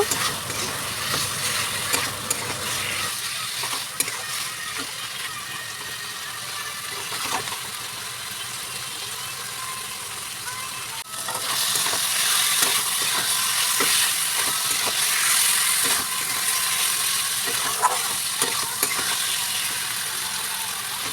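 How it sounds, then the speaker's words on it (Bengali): Potatoes frying with spices for chickpea ghugni, stirred in a pan: a steady sizzle with scraping utensil strokes, growing louder and brighter about halfway through. "ভেজে রাখা আলুগুলোকে দিয়ে ভালো করে আলুর সাথে মশলাটাকে ভাজা ভাজা করে নেব"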